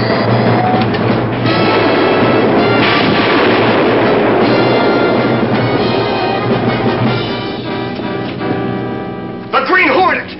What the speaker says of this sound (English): He's blasting the place with rockets!